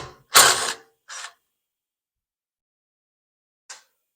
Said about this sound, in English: Let's go ahead and take this recoil off